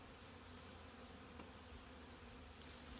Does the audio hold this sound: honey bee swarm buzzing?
yes